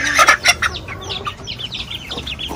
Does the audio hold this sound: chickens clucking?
yes